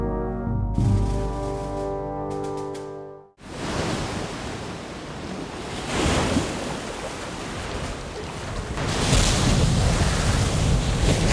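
Ocean waves breaking on Omaha Beach in Normandy, France: a steady roar of surf with swelling washes and wind buffeting the microphone, after a few seconds of music at the start, no talking.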